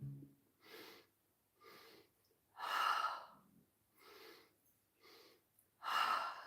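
Deep, slow breathing during a guided heart-breath meditation: a pattern of soft inhales followed by longer, louder breathy exhales, repeating in an even rhythm, close and airy with no talking.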